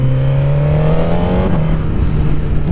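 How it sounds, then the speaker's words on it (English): Suzuki GSX-R1000R motorcycle engine idling and gently revving under light throttle, a loud close droning tone that rises slightly then settles, alone without talk. "Still really just tickling the throttle."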